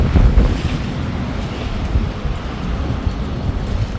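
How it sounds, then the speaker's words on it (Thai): Strong wind blows outdoors on a sunny day and buffets the microphone. The rumbling gusts are loud and continuous, with no voices. "เสียงลมแบบทุกคนแบบรอบทิศรอบทางเลยค่ะ"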